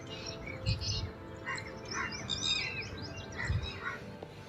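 Birds at Tal Chhapar sanctuary, a blackbuck reserve visited by migratory birds, chirp and tweet in scattered high calls over a steady outdoor background hiss, moderately near.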